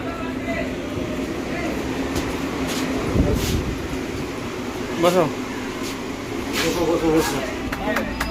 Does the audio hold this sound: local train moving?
yes